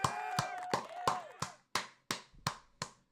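Hand clapping of a small round of applause for a guest on a gaming talk show, about nine sharp separate claps in an uneven rhythm, close and fairly quiet, with a voice speaking under the first few.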